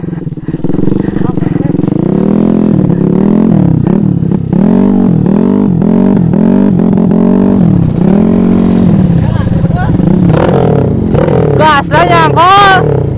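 A modified motorcycle engine with a sleep-engine setting revs loudly and repeatedly while racing, its pitch sweeping up and down in rapid throttle blips, with voices audible beneath the engine.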